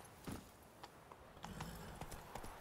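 Horse hooves clop in a quick, irregular trot in The Witcher 3, faint and slightly hollow, with a few sharper hits standing out over a low background hiss.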